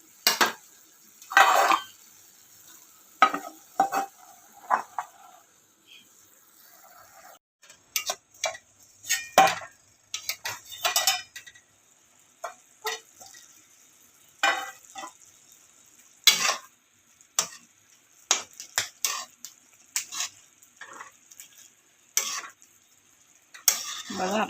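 Vegetable curry being stirred in a pan, with intermittent scraping and clattering of a spoon against the pan over a faint sizzle, in short irregular bursts close by.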